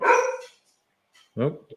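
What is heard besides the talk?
dog barking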